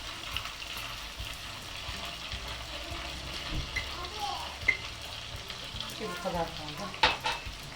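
Semolina roasting in a pan for helva, stirred with a continuous soft sizzle and scraping strokes, a couple of sharper clinks near the end, close and fairly quiet.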